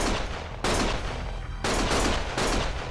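Loud, dense bursts of gunfire fill a club shootout in the video game Lost Judgment, with rapid volleys that cut in and out in several waves over a low rumbling bed.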